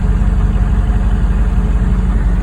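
A Hummer's engine rumbles steadily from inside the vehicle, on a roadside where volunteers are fighting a fire. It is a loud, close, low idling drone with no speech.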